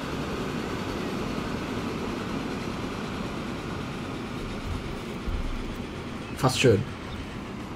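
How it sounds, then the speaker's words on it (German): A train running in the Transport Fever video game, a steady rolling rumble with a louder passing burst near the end, while someone speaks briefly over it. "Hier kommt ein Zug"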